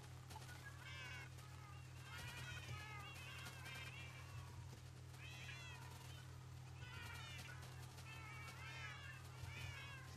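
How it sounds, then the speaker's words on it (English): Many cats meowing in the game Minecraft, repeated overlapping meows in a near-continuous chorus over a steady low hum. "It's hard when you've got this many cats underneath your feet."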